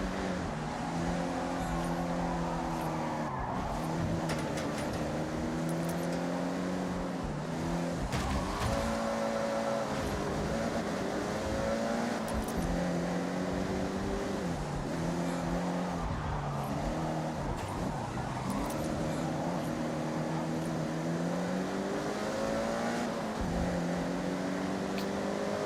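Continuous roar of racing car engines in Forza Horizon 6, pitches rising and falling as gears shift, with several cars droning together throughout.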